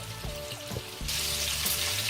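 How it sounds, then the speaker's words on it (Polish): Meatballs fry in a pan with a steady sizzle, joined by short clinks of a utensil; the hiss grows louder and brighter halfway through. "I smażymy bardzo fajnie z obu stron."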